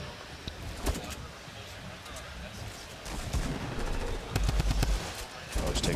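Gunfire in a Fortnite Summer Skirmish finale match at PAX: sharp bursts and scattered single shots, some near and loud, others fainter, under a continuous busy game background.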